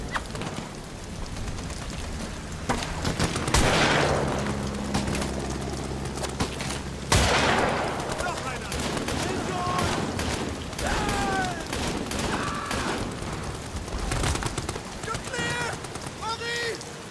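Gunshots fired in the horror video game Amnesia: The Bunker ring out as a few loud, sharp cracks, near 3.5 s and 7 s, over a dense game soundscape with a voice speaking and shouting around them.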